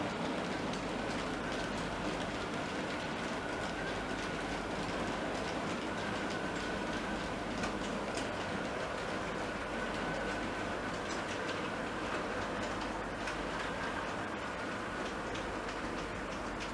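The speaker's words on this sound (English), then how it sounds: "So that's hauling quite a long through goods train." A long Scale 4 model railway goods train runs steadily past, a continuous rolling rumble with faint clickety wheel rhythm, heard alone without talk.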